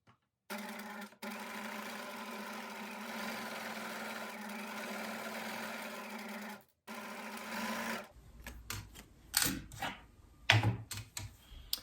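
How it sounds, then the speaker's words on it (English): A sewing machine runs a straight stitch down a folded fabric tuck in one steady, close whirring stretch with a brief pause, then stops, followed by scattered clicks and handling noises. "all we do is just do straight stitch all the way down your line to the bottom"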